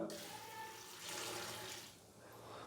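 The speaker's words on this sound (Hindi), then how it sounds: "मसाले डालने के बाद मैं इसके अंदर 1 गिलास पानी डालूंगा" A glass of water pours into a cooking pot of matar gosht with spices already added, a continuous splashing rush lasting throughout, close and fairly soft.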